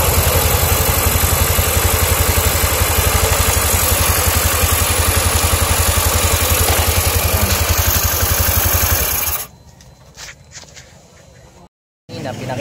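A carbureted Honda Beat scooter engine idles with an abnormal noise, a loud, steady, close mechanical drone for about nine seconds before cutting to a much quieter background.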